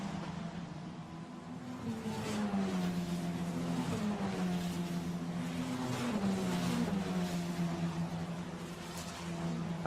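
Formula Renault Eurocup race cars at Imola roar past in a close battle near the end of the race, their engines rising and falling in pitch through gear changes and sustained loud acceleration.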